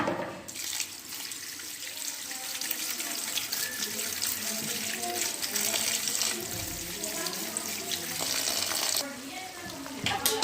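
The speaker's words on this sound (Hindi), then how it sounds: "अब ये हम इस एक टोकरी में निकाल के ऊपर डालते हैं ठंडा पानी।" Cold running water pours steadily over boiled pasta in a colander, a continuous splashing rush close by that stops briefly near the end.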